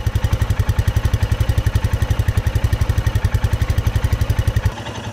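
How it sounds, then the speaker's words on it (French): Air-cooled Royal Enfield Himalayan motorcycle engine idling up close, a loud, steady thumping beat of evenly spaced pulses that stops abruptly near the end, leaving quieter background. "C'est quelque chose aussi peut-être particulier au moteur refroidissement à air. Et j'adore ces battements."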